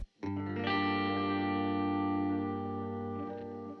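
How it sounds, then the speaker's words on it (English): A sustained electric guitar chord from a software instrument preset in Logic Pro X, with a shimmering chorus effect, ringing out loud and full before slowly fading. "you get this whole range of guitar presets"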